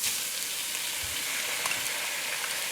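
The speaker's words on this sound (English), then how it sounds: "then chuck your tomatoes in" Tomatoes hit a frying masala base for chicken curry and sizzle in a steady, close hiss with a few soft pops and bubbles, and no one speaks.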